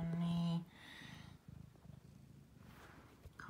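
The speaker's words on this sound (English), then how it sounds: "constantly purring." A cat purrs close by in a low, rhythmic rumble that runs through the whole clip, faint and continuous, with a brief tonal sound at the very start.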